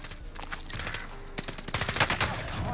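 Rapid automatic gunfire from an MP40 submachine gun in Warzone, dense bursts growing louder toward the end, with faint talk beneath.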